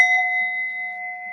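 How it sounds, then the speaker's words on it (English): A single bell rung once gives a clear, steady ringing tone that sustains and slowly fades, close and loud with nothing else around it. "ring of the bell."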